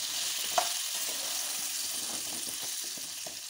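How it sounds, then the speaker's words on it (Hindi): Amla pickle mixture sizzles in a hot pan as a large spoonful of coarse salt is stirred in, a steady close hiss with soft scraping stirs throughout. "अब इसमें ऐड करेंगे नमक, 1 चम्मच बड़ा नमक, और इसको अच्छे से मिला लेंगे।"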